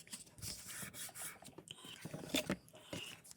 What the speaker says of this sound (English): So I'm just going to fold and burnish that.